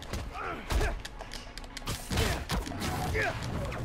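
Gunfire in the video game Spider-Man: Miles Morales, a burst of sharp, close shots and thuds arriving in quick uneven clusters, mixed with game effects and a voice talking over the action.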